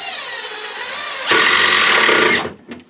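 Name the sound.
power drill driving deck screw into wood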